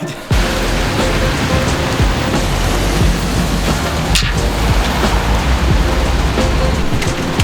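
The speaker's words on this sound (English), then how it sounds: "I love rain." Heavy rain falls in Brisbane as a dense, loud, continuous hiss of water pouring onto surfaces, with no one talking.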